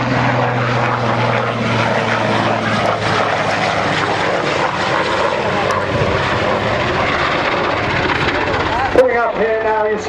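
A Swiss Eurocopter Cougar helicopter flies at the Waddington airshow, its rotor and engine roar loud and sustained, with a commentator speaking over the noise.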